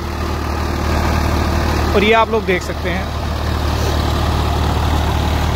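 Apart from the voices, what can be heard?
Swaraj four-wheel-drive tractor engine running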